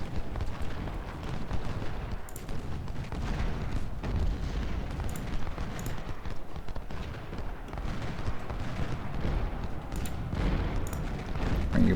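Cannon fire at the Battle of Shiloh in Ultimate General: Civil War rumbles as a continuous dull barrage of booms and distant musketry, heavy and low, with no clear pauses across the whole stretch.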